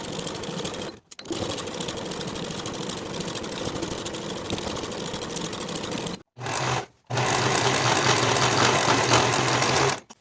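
A sewing machine runs blouse seams in long, steady bursts, a close, loud, rapid mechanical whir broken by two brief stops and then resuming, with no voices.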